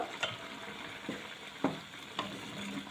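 Potato and onion chechki with coriander leaves being stirred in a pan, a gentle sizzle broken by four soft spatula scrapes and knocks, quiet with no voices.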